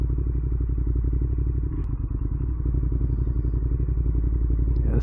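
A Ducati Monster 1200R idles with its Termignoni exhaust, a close, loud, steady throbbing pulse with a brief dip and a sharp click partway through, and no clear talk over it.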